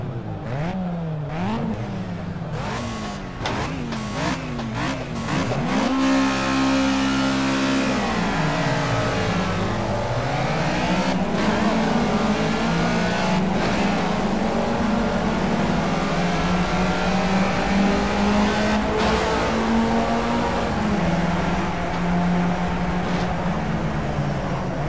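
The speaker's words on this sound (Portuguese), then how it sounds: "Barulho é legal, né, dos carros." Racing car engines in Project CARS rev and shift through gears, pitch climbing and dropping in sweeping waves, loud and continuous with several cars overlapping.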